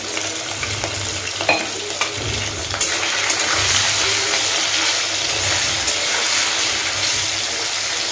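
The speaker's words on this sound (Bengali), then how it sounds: "চলো আগে পনিরটা ভেজে নিচ্ছি।" Paneer sizzles steadily as it fries in a pan, a dense broadband crackle lasting throughout with a few louder pops and scrapes near the middle, no voices present.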